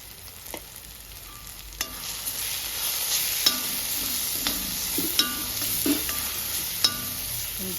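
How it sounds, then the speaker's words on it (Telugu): Spices frying for a small-fish curry, chilli powder and turmeric in a hot pan, give a steady close sizzle, with a spoon scraping and clinking every second or so. "బాగా ఫ్రై చేసుకోవాలి"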